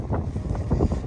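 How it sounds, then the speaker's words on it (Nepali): Wind gusting across Lake Illawarra, an inland sea, as a low rumbling roar buffets the microphone in uneven surges, loud and close, with no voices. "हावा चलिरहेछ"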